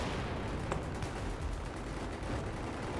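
Steady, dense gunfire in Battlefield 4 that sounds fairly distant and muffled, a continuous crackle of shots with no clear pauses and no talking.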